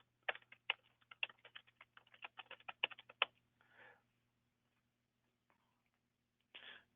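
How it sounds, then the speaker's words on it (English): Quick bursts of close computer keyboard typing, a rapid irregular clatter of keystrokes, then a pause and a couple of soft rustling sounds in an otherwise quiet room. "So I'll just type it in."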